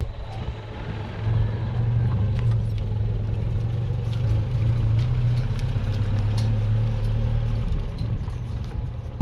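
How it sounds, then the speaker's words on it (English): Steady engine drone and road rumble fill the cabin of an early-1980s Datsun Violet A10 while driving, a continuous low hum with faint rattles and no speech. "Okay, so driving the Datsun A10 slash Violet slash everything else."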